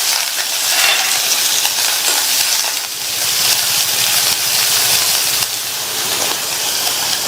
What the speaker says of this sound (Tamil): ஒரு சின்ன சைஸ் கட் பண்ண பெரிய வெங்காயம், ஒரு கட் பண்ண காஞ்ச மிளகாய், கருவேப்பிலை, இதை லைட்டாக வதக்கி விட்டுட்டு